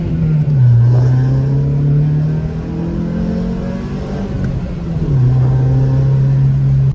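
A car engine in an Acura RSX idles steadily with a deep, even hum, briefly revving up and settling back down twice, close and loud with no talking, just after a sensor replacement cleared limp mode.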